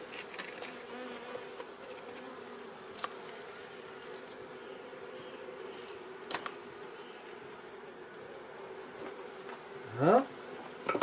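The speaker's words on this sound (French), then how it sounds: "je vais remettre des abeilles" Honeybees buzz in a low, steady drone during a queen-rearing grafting session at the hive, with a few soft handling knocks and a sharp rustle near the end.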